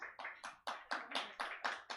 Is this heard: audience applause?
yes